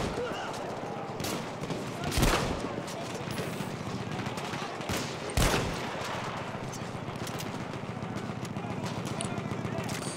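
A shotgun-like sidearm fires in Battlefield 1 with two sharp, loud blasts a few seconds apart over a continuous din of distant battlefield gunfire and commotion.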